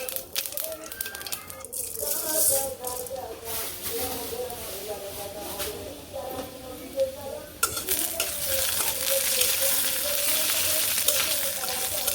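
Dal frying in a pan in a village kitchen, heard as continuous sizzling and stirring scrapes that grow louder and denser in the second half, with intermittent talking over it.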